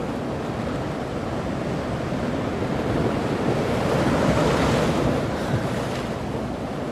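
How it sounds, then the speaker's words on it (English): Ocean waves crash and roll as the closing sound of a song, a steady broad wash of surf with wind noise that swells slightly toward the middle, loud and alone with no voices. "End with the waves crashing."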